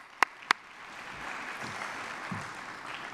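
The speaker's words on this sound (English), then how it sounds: "So why don't we go ahead and give him a round of applause anyway." An audience at a transportation foundation scholarship awards ceremony gives faint, soft applause after two sharp claps or knocks at the start, distant and low in level.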